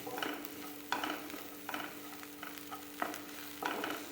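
Onions and chillies sautéing in a pan, with a soft continuous sizzle broken by repeated stirring scrapes at an irregular rhythm.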